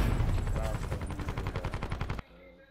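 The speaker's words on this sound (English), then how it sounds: "That gun be busting" Rapid automatic gunfire from a weapon in Call of Duty: Black Ops 4 rattles in a fast, loud, steady burst of closely spaced shots for about two seconds, then cuts off abruptly to quiet background.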